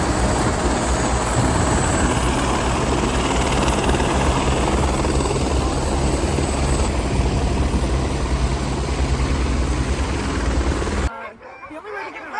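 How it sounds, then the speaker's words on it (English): A helicopter's rotor thumps and engine whine fill the air steadily and loudly in Alaska, with voices speaking underneath before the sound cuts off abruptly. "That's the helicopter I was in."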